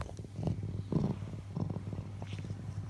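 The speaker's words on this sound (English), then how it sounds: "Purring." A large wild cat purrs in a low rumbling rhythm, each pulse close and distinct against a quiet background, about five or six cycles in a few seconds.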